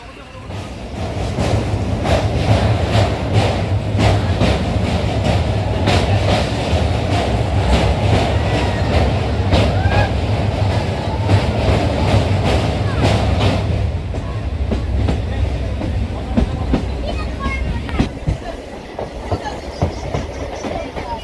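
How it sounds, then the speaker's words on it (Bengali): A goods train pulls in on the Siliguri–Malbazar line near forest, loud rumbling with rhythmic clickety-clack of wagons for most of the stretch before easing off toward the end, with brief voices nearby. "ওই মালগাড়ি ঢুকছে"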